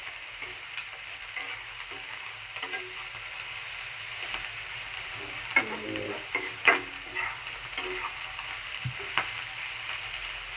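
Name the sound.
onions frying in oil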